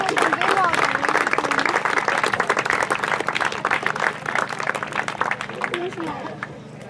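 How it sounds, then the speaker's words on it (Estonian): Audience applause at a children's triathlon award ceremony in Haapsalu, dense clapping from a crowd that runs throughout and slowly thins toward the end, with voices mixed in. "Aplaus!"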